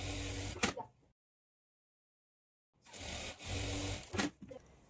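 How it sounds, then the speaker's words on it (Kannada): A sewing machine running a top stitch on a blouse piece in two close bursts of fast, whirring stitching, separated by a silent pause of about two seconds. "ಈಗ ಈ ಪೀಸನ್ನು ಈ ಥರ ಓಪನ್ ಮಾಡಿಕೊಂಡು ಮೇಲೆ ಒಂದು ಟಾಪ್ ಸ್ಟಿಚ್ ಹಾಕ್ಕೊಳ್ಬೇಕು."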